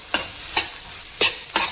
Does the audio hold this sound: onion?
yes